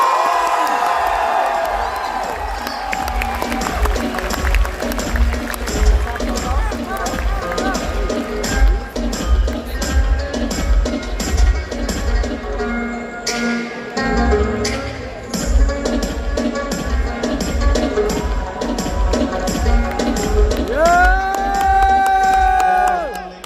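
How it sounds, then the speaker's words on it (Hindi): Audience at a Pakistani content creators' conference cheering and clapping for a guest, a long loud stretch of applause with whoops and shouts, under music and a voice over a PA. "आप सबकी भरपूर तालियों में please put your hands together for Irfan चिनाई"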